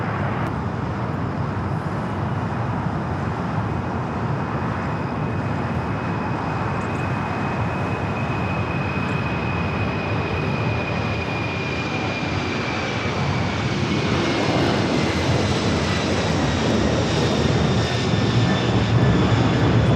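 A Boeing 747 rolls along the taxiway toward runway 25 left at LAX, a loud continuous engine roar with a high whine that slowly shifts in pitch, swelling louder toward the end.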